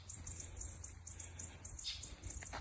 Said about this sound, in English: the bird's going nuts